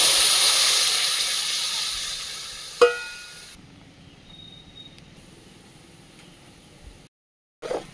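Lemon pieces dropped into a hot, dry kadai for oil-free lemon pickle give a loud, steady hissing sizzle with a sharp splash partway through, then fade to a quieter hiss that cuts out near the end.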